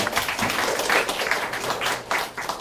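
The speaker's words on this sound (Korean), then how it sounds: "다시 한번 큰 박수 부탁드리도록 하겠습니다" A short burst of applause for a student's presentation at a symposium, many hands clapping at moderate volume that tapers slightly toward the end.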